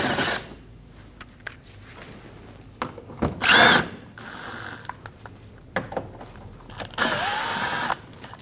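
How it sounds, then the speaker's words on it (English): A power driver with a T25 bit backs out bumper screws on a 2012-2022 Volkswagen Passat, with short bursts of whirring and ratcheting between quiet handling clicks and taps, close and fairly loud. "We're going to use a T25 bit and we're going to remove the 3 screws."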